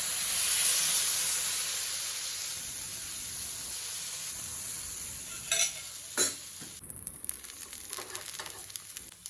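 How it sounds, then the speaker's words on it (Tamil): Onion rava dosa batter hitting a hot pan gives a strong, close sizzle and hiss that slowly fades, followed by a few scraping clicks of a utensil against the pan. "தோசை ஊற்றிப்போம்."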